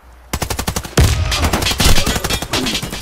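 Rapid bursts of automatic gunfire in the shooter game Warface, loud and close, with sharp repeated shots in quick rhythm and a heavy blast partway through.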